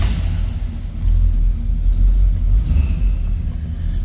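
A 1977 Chevrolet Silverado C10 engine turns over and catches about one second in, then settles into a loud, steady low rumbling idle heard up close.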